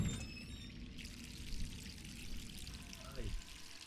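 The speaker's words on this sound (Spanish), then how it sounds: "Dios mío, esta mujer para desperdiciar agua" Water running from a tap in the horror game Resident Evil 3, a steady soft pour and trickle under a voice.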